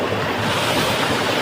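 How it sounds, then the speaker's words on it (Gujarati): Sea water surges in at a shore as a steady, loud, broadband wash of waves with a gusty, windy roar that lasts the whole short moment; no one talks. "તમે દેખો છો કે આટલું પાણી આવે છે."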